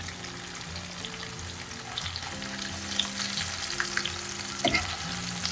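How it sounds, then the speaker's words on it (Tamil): Tofu tikka sizzles and crackles steadily as it fries in a pan, with occasional stirring clinks and scrapes under the bubbling oil, close and at moderate volume. "கடகடன்னு நான் வந்து பொரிச்சிட்ருக்கேங்க."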